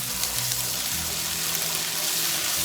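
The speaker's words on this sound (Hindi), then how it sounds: "सौते कर लेंगे लहसुन अदरक को" Garlic and ginger sautéing in hot oil for a keema karela dish, a steady, loud broadband sizzle that holds unbroken throughout with a low hum beneath and no talk.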